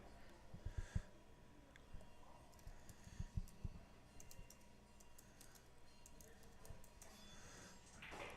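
Keys clatter on a computer keyboard during a 9-ball pool tour broadcast, coming in quiet, irregular bursts of clicks against a low room hum.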